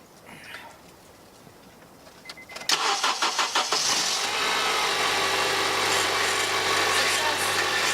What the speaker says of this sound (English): now let's hope that the car starts